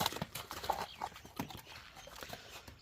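A horse's hooves clip-clop in a quick, uneven rhythm at moderate distance, several light knocks per second over faint outdoor background noise.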